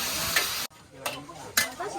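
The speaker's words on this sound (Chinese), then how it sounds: "薄荷炒一炒，变香。" Mint is stir-fried in a pan at a campsite, giving short bursts of sizzling and scraping from close by with brief pauses between.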